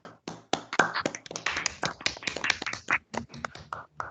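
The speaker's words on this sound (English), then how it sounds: "Let's give them an applause." Sparse clapping at an online university presentation event, a few individual hands patting out irregular, close-miked claps with short gaps rather than a crowd's blended roar.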